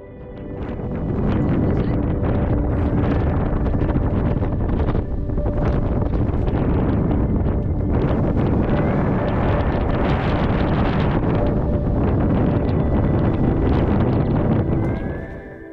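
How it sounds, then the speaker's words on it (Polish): Strong, steady wind roars and buffets a microphone continuously on the Kościelec mountain summit in the Tatras, with low rumbling gusts that barely let up. "Przeszywający wiatr zmusza nas do zejścia ze szczytu."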